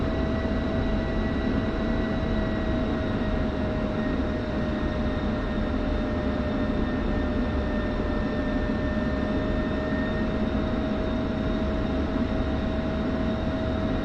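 An F-16C jet engine idling steadily while taxiing in the DCS flight simulator game: a continuous loud turbine roar with a sustained high whine, unchanging throughout and with no talk.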